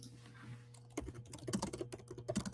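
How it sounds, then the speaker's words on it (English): Rapid typing on a Mac keyboard heard through the laptop's built-in mic, a dense run of close, light clicks that starts after a quiet moment and keeps on steadily. "so you may actually hear my typing"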